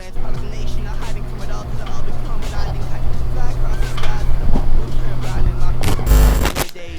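A Can-Am X3 side-by-side with a new big turbo runs at a loud, rough idle and revs, a deep throbbing engine rumble with sharp popping bursts, and a voice speaks over it.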